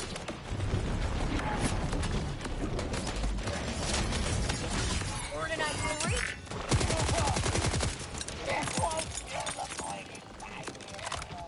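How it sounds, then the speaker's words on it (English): Cryo rounds fired toward the player in a Borderlands-style vault hunter shooter game, a dense rapid burst of automatic gunfire rattling continuously over busy game music and effects. "something's firing cryo rounds in my direction"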